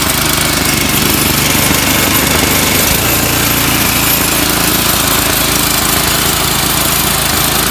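A John Deere 724D small engine runs steadily after a tune-up and valve adjustment, a loud, close, continuous buzzing drone with no talk over it.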